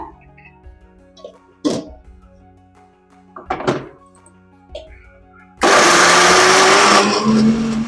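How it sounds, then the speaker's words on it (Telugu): A mixer grinder blending almond paste with milk starts up abruptly after a few knocks and thuds, then runs as a loud, steady whirring roar close by. "అందులో ఇప్పుడు సగం ఈ పేస్ట్లో పోసుకొని మిక్సీ పట్టుకుంటాను"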